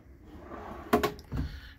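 Drawers in a compact camper or RV storage unit, a pair of sharp wooden knocks close together followed by a softer slide-and-bump, recorded close up in a quiet room with faint background hiss.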